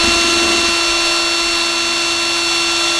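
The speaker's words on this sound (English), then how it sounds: "I'm gonna drill directly into that hole there." A steady, high-pitched power drill whines continuously at close range, cutting into an aluminium curtain rail in a VW T4 camper van without pause.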